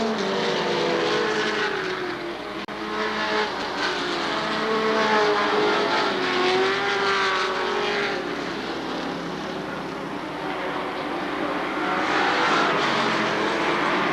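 Several stock race cars circle a speedway oval at a 1996 fall race, a continuous loud engine drone swelling and fading as cars pass in waves.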